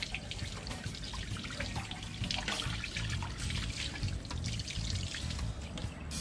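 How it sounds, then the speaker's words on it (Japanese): Water runs steadily from a tap over a mirror-polished aluminum part being washed, a continuous close splashing trickle with small drips and rinsing noises throughout. "それじゃあ今から磨きますというか洗います"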